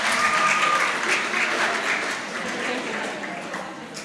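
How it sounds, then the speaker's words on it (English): A crowd applauds steadily, with dense clapping that stays loud throughout and tapers slightly toward the end. "A round of applause for her."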